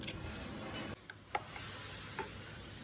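Mango pickle pieces are mixed by hand with chili powder and oil, giving a soft, moist, crackly stirring sound with a few light clicks, close and quiet.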